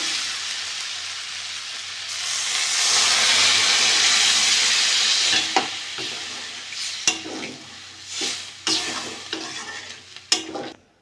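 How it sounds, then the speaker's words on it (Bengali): Water poured into sautéed potato and pea ghugni in a hot pan sets off a loud swelling steamy hiss that fades, followed by scattered scraping stirs and clinks of a spoon against the pan. "ভালো করে কষে নিয়েছি আমি এবার জল দিয়ে দেবো"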